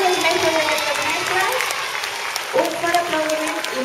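Audience at a school science congress applauding children, a sustained round of clapping with a voice speaking over it and brief swells of cheering.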